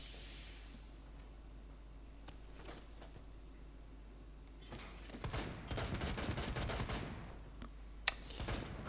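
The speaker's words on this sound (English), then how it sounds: "Go on, Ash, shoot the wall out." Video game gunfire shooting out a wall: scattered sharp shots at first, then a dense, sustained burst of rapid automatic fire that grows louder, with one hard crack near the end.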